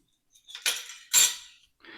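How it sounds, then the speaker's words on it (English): Baking soda for banana bread being sifted, a few short bursts of close, gritty rattling and scraping from a metal sifter, with brief pauses between. "I always sift my baking soda because I don't want anybody to get a chunk of it in their mouth"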